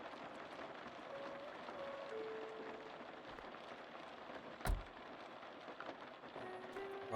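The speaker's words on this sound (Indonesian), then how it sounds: "Hujannya lumayan deras sih." Steady rain falls in a camper van video game, a soft even hiss of drops throughout, with a sharp knock partway through and no talk.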